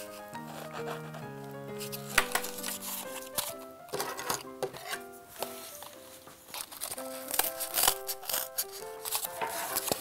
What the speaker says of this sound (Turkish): Makasla biraz zor oldu kalın olduğu için.